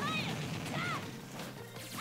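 A forward smash landing in a Super Smash Bros. Ultimate match, heard as a short, loud impact burst with swooshing game effects over a dense layer of crowd and game noise.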